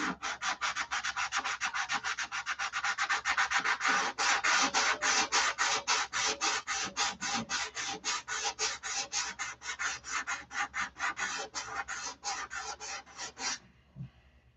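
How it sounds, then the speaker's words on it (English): Hand sanding by one person: fast, even back-and-forth scraping strokes, close and loud, keep up an unbroken rhythm for most of the stretch, then slow and stop near the end. "One guy sitting sanding"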